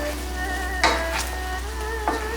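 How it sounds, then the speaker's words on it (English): Cantonese-style braised pork ribs stirred around in their sauce in a pan, with a steady close sizzle and two brief scrapes or clinks of the utensil against the pan. "let's mix the ribs around in the sauce"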